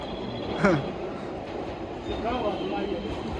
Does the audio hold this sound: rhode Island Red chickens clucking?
no